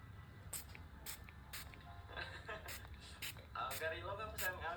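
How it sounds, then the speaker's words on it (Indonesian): Temporary tattoo spray hisses from a can in a run of short bursts, several quick sprays in an uneven rhythm, close and fairly loud, under continuous conversation. "Semprot weh."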